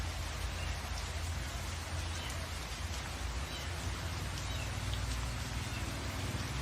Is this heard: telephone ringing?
no